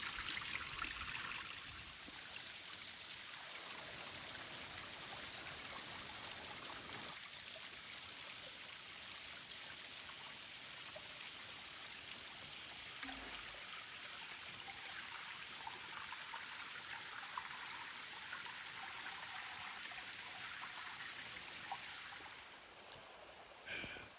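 A flowing stream along a hiking trail with small drips trickling off rock, a steady broadband water rush that holds near and continuous the whole time, with no talk over it.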